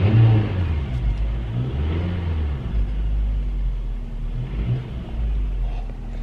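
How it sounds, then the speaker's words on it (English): A car engine with a fault noise runs with a steady low rumble, swelling in short revs over a constant idle drone; no voices. "there's some kind of noise coming from the engine"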